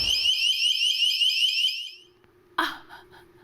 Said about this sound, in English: Was that fire alarm or a burglar alarm?